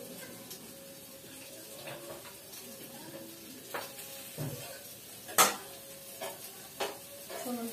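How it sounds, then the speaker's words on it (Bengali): Dried red chillies temper in hot oil with a faint continuous sizzle, punctuated by scattered utensil scrapes and a sharp metallic clink partway through. "শুকনো লঙ্কা ফোড়নে দেব,"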